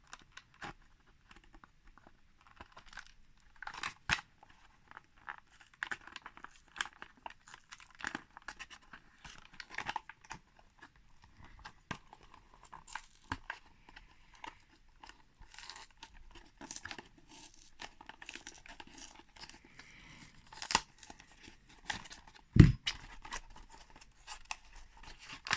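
Cardboard toy car packaging is torn and crinkled open close up in short, sharp ripping bursts separated by quiet pauses, with one louder tear near the end.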